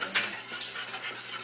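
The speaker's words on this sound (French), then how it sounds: "On mélange le lait avec la crème de champignons, chaudron." Milk and cream of mushroom soup are stirred in a pot, making soft close scraping and swishing strokes that repeat steadily, with no talking.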